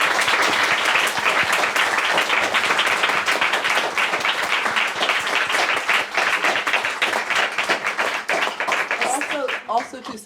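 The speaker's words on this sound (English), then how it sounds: "let's give everyone a round of applause." A seminar audience on economic power in the digital age gives a sustained round of applause, dense and steady for about ten seconds before thinning into a few last claps.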